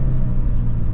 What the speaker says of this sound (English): It's got a nice exhaust note on it. This is a factory exhaust in this one.